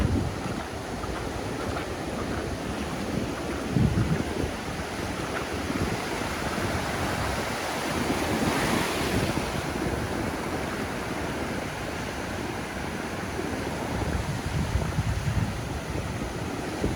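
Rough surf churns through Ponce Inlet near New Smyrna Beach, Florida, a steady, loud wash of breaking waves mixed with wind rumble on the microphone, sustained throughout with occasional heavier surges.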